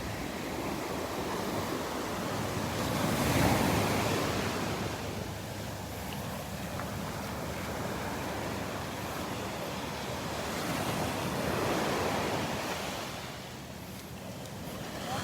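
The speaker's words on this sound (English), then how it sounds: "Those are some pretty good-sized little waves out there." Small ocean waves break on an outer sandbar edge and wash in a continuous roar, swelling louder twice, with wind noise across the microphone and no voices.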